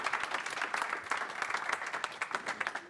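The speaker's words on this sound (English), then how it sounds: "one more final round of applause for Ryan, everybody." Audience at a JavaScript meetup in Glasgow gives a final round of applause after a talk, a quiet patter of individual claps with distinct hand strikes through the whole stretch, fading at the end.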